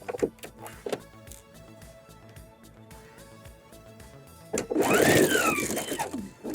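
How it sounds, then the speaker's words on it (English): Sewing machine stitching bias facing onto a V neckline, running in a loud burst toward the end after quieter handling sounds and a few clicks. "So I'm sewing directly to the point."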